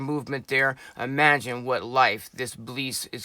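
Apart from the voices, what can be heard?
No everyday noises stand out.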